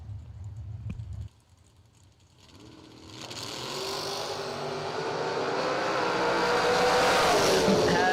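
A 1980 Corvette and a pickup truck drag racing at a bracket race, engines building from a quiet idle into a loud, sustained roar that swells and holds close by, with rising whine over a deep rumble.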